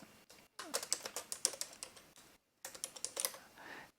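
Keys on a computer keyboard clack in quick, close bursts of typing into a chat room, with a short pause partway through and no voice over it.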